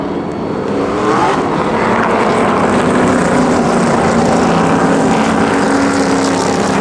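SRX race cars pull away at Stafford Speedway as one loud, sustained engine roar that swells in the first second and then holds steady, with crowd and track ambience blended in and no talking.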